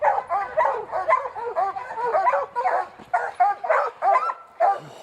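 Hunting dogs bark at a bear treed above them: a loud, close, continuous chorus of rapid yelping barks and yips, with several dogs overlapping and no talk.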